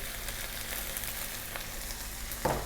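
Okra fried rice frying over high heat in a pan, a steady loud sizzle with faint stirring scrapes and a brief clatter near the end.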